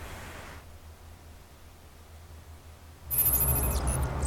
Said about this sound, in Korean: What's that sound? Water? Yes. It's coming from there.